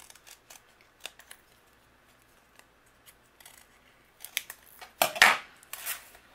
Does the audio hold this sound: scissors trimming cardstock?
yes